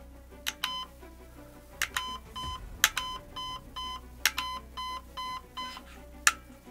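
Short electronic beeps come from the programming of an airsoft replica's fire mode, in a Zion Arms R&D Precision PW9 Mod.1, sounding as a series of clipped tones in quick succession, some spaced and some in groups.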